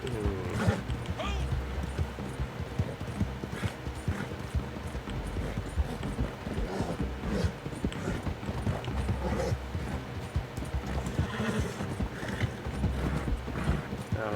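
A horse in Red Dead Online gallops steadily with continuous rhythmic hoofbeats throughout, and someone talks over the running hooves.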